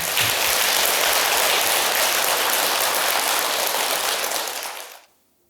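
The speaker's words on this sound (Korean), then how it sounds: "그 신도 여러분을 위해서 박수 한번 칩시다" Audience in a Buddhist temple gathering applauds the monks and staff with dense, sustained clapping that stays loud and even for about five seconds, then stops abruptly.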